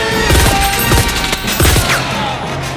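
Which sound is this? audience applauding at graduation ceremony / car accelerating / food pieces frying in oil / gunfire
gunfire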